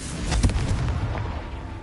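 A Confringo fire spell explodes in Hogwarts Legacy, a sharp booming blast that rolls into a broad rumbling decay over about two seconds, loud and close with no talk.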